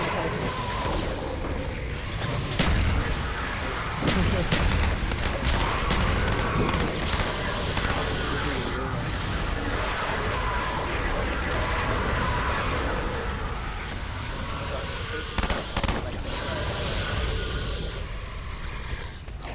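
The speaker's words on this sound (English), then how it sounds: "I have no choice but to shoot from the hip now, since I have this weapon." Weapon fire in Call of Duty Black Ops Zombies, shot from the hip, comes as loud, continuous game combat noise with repeated shots and impacts, while someone talks over it.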